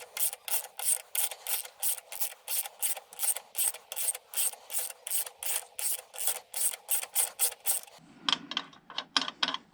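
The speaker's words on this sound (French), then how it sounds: "Il va falloir une douille de 14 et après les outils que vous avez." Rapid, steady ratchet clicks from a 14mm socket unscrewing a bolt on a Kawasaki ER6N motorcycle's handlebar, close and loud, a long even run of strokes ending in a few slower, lower clicks.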